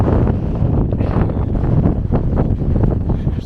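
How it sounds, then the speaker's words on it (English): Strong wind blowing on an exposed coastal bluff, buffeting the microphone with a steady loud rumbling roar throughout, no voices. "It's a bit windy."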